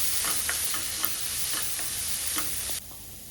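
Cooked papaya for a Kerala-style papaya thoran is stir-fried in a pan, making a continuous sizzle with repeated light scraping strokes. The sizzle drops away abruptly near the end.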